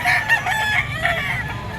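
A white Kelso Firebird-line stag rooster crows once, a loud close cock-a-doodle-doo that stretches nearly two seconds over a faint low background hum.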